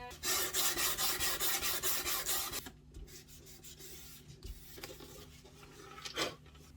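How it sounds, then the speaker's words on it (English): A hand plane shaves a violin fingerboard in a workshop: a series of quick, evenly spaced rasping strokes close by, which then give way to quieter, scattered scraping and handling noises. "I'm just going to put the protection on, and then I'll start planing."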